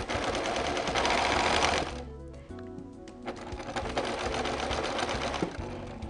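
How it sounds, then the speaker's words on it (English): A sewing machine stitches joined quilt binding strips, a fast close motor whir that pauses briefly midway before running again steadily to the end. "And now I'm going to get my sewing machine and sew on that line."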